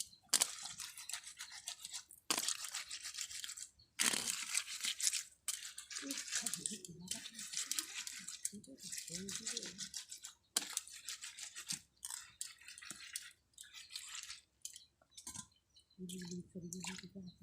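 Scales are scraped off a fish during cleaning with rapid, rhythmic, raspy strokes at close range. The scraping comes in repeated bursts with short pauses between them, and a faint voice is heard near the end.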